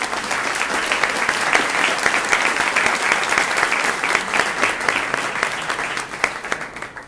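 Audience at a 24-hour news format conference applauds, dense sustained clapping from a large crowd, loud and steady for the whole stretch with no voices over it.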